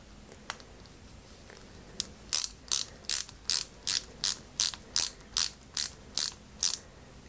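On a 1/8-scale Ferrari 330 P4 model kit, a small screw is driven in with a steady run of about a dozen crisp ratcheting clicks, close and quiet, with no talk over them.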